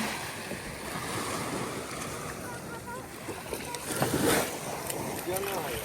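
Sea waves washing in at a beach at Sand Key, Clearwater, a steady wind-buffeted surf wash with a brief louder surge near the end, heard close up with no talking.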